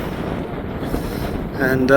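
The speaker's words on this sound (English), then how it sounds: "Getting quite windy now" Wind buffets a microphone outdoors by a creek on the Thames estuary shore, a steady close rushing roar throughout, with a brief voice.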